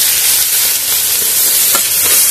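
Grated carrots fry in ghee and oil for carrot laddu with a loud, steady sizzling hiss, close and unbroken, with a few faint stirring touches and no talk.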